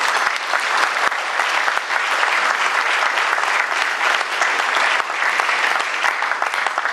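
Audience applause at a formal ball in Cleveland, steady and dense clapping from a large crowd that holds loud and even for the whole stretch without a break.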